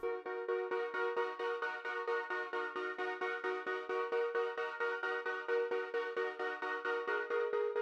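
A synth chord progression in an FL Studio beat pulses in a steady rhythm shaped by an LFO, bright stacked tones repeating evenly, clean and alone without voices.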